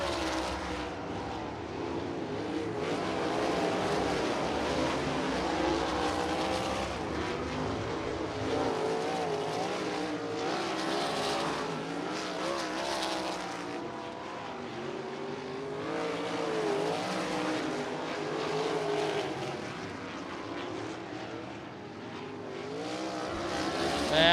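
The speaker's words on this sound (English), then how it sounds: "this is heat race number one of three for the Ford Performance Racing School sprint cars this evening" Sprint cars of a racing school thunder around a speedway oval during an evening heat race, a steady loud engine roar rising and falling as the pack circles, with no clear pauses across the whole stretch.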